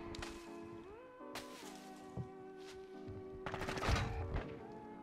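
Gunfire in Modern Warfare 2 with scattered distant shots and short bursts over an ongoing game soundscape with tonal music-like hums, one heavier burst near the end, fairly faint overall.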